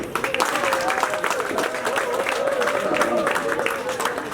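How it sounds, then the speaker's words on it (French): Guests at a family graduation celebration in New Jersey applaud together, a steady wash of clapping filling the room with a faint voice or murmur running underneath throughout. "Applaudissez pour vous."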